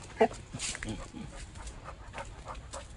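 A dog panting and whimpering nearby, soft quick breaths with a brief yelp near the start, under quiet talk from a person.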